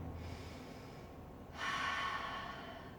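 Breath is pushed out audibly through the nose during a yoga exercise. A soft breath comes first, then a stronger rushing exhale that tapers off.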